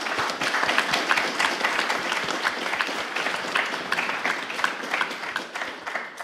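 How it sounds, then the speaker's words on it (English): An audience claps steadily in applause welcoming guest Robert Nelson at a book talk on economics as religion, a dense, fairly loud wash of hand claps lasting throughout without pause. "So please, a round of applause for welcome for Robert Nelson."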